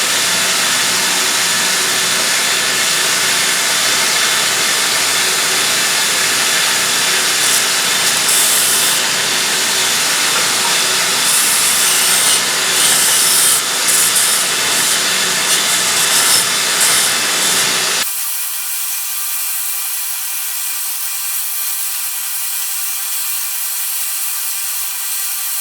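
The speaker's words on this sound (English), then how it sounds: "I believe that did chamfer the corners just right." Chamfering fixture easing the corners of a metal tapping-fixture base, a steady scraping, grinding machining noise that runs continuously for about eighteen seconds, then stops abruptly, leaving a faint steady hum.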